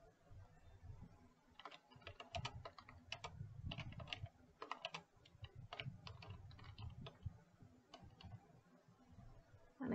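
Close, fairly faint clicking of a computer keyboard as a name is typed into a Salesforce territory form, irregular keystroke bursts over soft background noise, with no talk.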